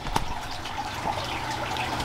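Water trickles and drips softly from an aquarium net as a native predatory fish is scooped, a faint steady dribble with a few small splashes close by.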